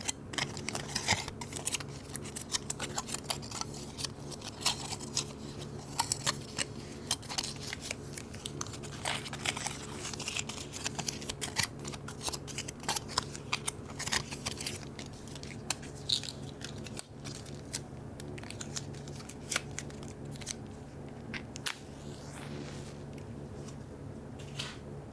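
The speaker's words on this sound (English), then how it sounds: "There's the people who really like the sound of foil." Aluminium foil crinkled and crumpled close up in a quiet ASMR setting, a steady dense stream of crisp crackles and rustles lasting throughout with no talking.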